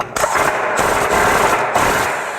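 A trigger-operated power tool torques the secondary clutch bolt on a Polaris RZR, giving several loud, close bursts of buzzing, rattling whir separated by brief pauses.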